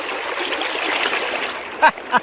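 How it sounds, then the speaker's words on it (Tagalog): Knee-deep floodwater flows with a steady, close rushing and splashing sound, ending with a couple of short louder splashes near the end. "Hanggang tuhod pa lang naman yung ano, hanggang tuhod pa lang yung tubig."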